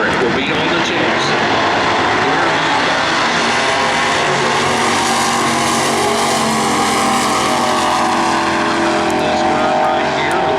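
A 1977 Pontiac Formula with an automatic and a 350 Pontiac engine launching in a drag race at Norwalk, a loud roaring engine building and sweeping past under an announcer talking.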